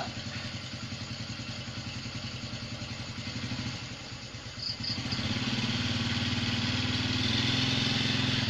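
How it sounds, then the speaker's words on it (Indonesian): A motorcycle engine putters at idle close by, its clattering pulse shifting midway as the bike pulls up and then settles into a louder, steady idle with no talking. "udah datang nih motor ini"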